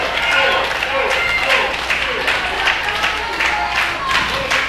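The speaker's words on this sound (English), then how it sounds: "I have to say this applause for both superstars" A wrestling crowd at an Anarchy Wrestling show applauds steadily, dense clapping that rises and falls slightly, with a commentator's voice running over it.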